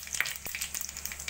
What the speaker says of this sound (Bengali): কড়াইতে তেল গরম বসিয়ে দিয়েছি, দিয়ে দেবো জিরে, তেজপাতা আর একটা এলাচ ফোড়ন।